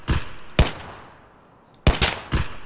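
Gunfire in Escape from Tarkov: four sharp, loud shots in two pairs, with a quiet decaying tail between them and no talk.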